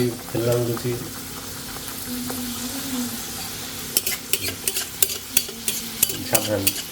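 Luchi dough slipped into hot oil, frying and puffing, a steady close sizzle with bursts of bubbling and spatter, then rhythmic clinks of a utensil against the pan while people talk briefly over it.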